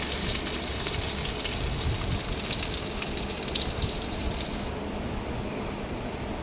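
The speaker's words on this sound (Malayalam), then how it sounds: "ചെറിയുള്ളി അരിഞ്ഞതും കറിവേപ്പിലയും ഇട്ട് കൊടുക്കാം നമുക്ക് അത് നന്നായി മുരിച്ചെടുക്കാം" Chopped shallots and curry leaves frying in hot coconut oil in a pan give off a steady, close hiss and crackle, brightest for the first few seconds and then settling lower, with no voices.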